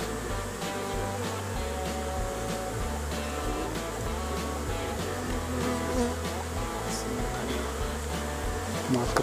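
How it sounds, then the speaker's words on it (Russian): Honey bees being shaken from a trap make a dense, steady swarming buzz that fills the whole stretch, close and continuous, with faint background noise. "Сейчас остатки пчел туда стряхнем."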